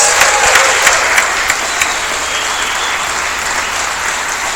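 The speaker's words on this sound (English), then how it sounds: "I think our inductees deserve a hearty round of applause." Hearty applause from an audience at a university athletic hall of fame ceremony honoring inductees, loud sustained clapping with a few sharper claps early on, steady throughout with no voices.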